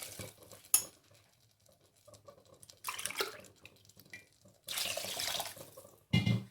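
Two cups of water are poured into a cooking pan over spices for vada curry, in short bursts, splashing close by between quiet pauses, with a few small clinks.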